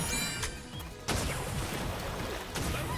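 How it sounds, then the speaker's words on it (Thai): A water bomb bursts in the action RPG Sword Art Online Fractured Daydream, a sharp loud blast at about one second followed by a splashing, crashing wash under steady game noise, with another smaller hit near the end. "โอ้ ระเบิดน้ำ"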